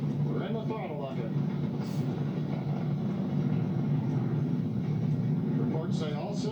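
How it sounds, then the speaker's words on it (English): SpaceX Falcon 9 rocket climbing through supersonic flight, a steady low rumble from its engines heard under continuous mission-control commentary. "Vehicle is supersonic. We've exceeded Mach 1 on the Falcon 9."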